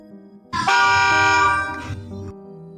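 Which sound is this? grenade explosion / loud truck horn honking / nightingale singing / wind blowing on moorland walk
loud truck horn honking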